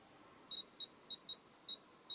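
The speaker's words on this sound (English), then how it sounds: "It's not beeping as often as this one is clicking." An Aranet radiation sensor beeps beside a Geiger counter near uranium glaze and thoriated tungsten welding electrodes, giving six short, sharp, high electronic beeps at irregular intervals over a quiet background.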